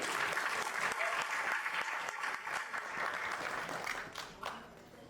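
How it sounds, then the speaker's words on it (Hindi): Strong audience applause at a Hindi-Urdu mushaira poetry gathering, a dense steady wash of many hands clapping that stays loud throughout and eases slightly toward the end. "ज़ुबैर अली ताबिश के लिए ज़ोरदार तालियां।"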